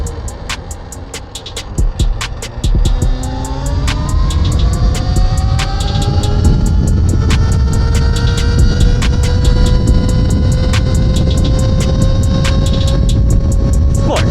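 A Talaria XXX electric dirt bike ridden on the road to work, loud and close, with a rising electric motor whine climbing in pitch as it accelerates over heavy wind rush, plus rhythmic ticking.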